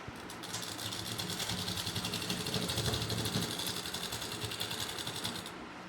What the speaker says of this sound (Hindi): ये लगा लेते हैं सिलाई हम।